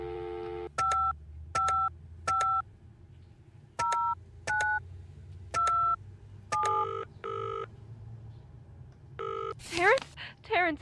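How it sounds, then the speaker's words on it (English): A sequence of short touch-tone beeps as a phone number is keyed in within the point-and-click game Penelope Pendrick and the Art of Deceit, about a dozen evenly spaced tones, followed by a brief warbling ring. "Eileen Davies. Let's call her."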